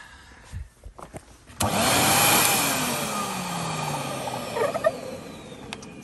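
A Numatic Henry vacuum cleaner with a longer flex switches on with a sudden whoosh, its motor whine settling into a steady hum that slowly fades, with a few clunks as it runs.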